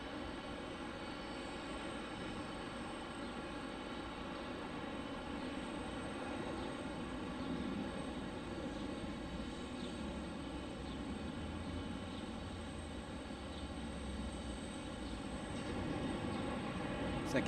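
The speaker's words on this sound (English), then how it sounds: "Here's the A321." Airbus A321 jet airliner at Detroit Metropolitan airport, a distant, quiet engine hum holding steady with a tonal whine, swelling slightly toward the end.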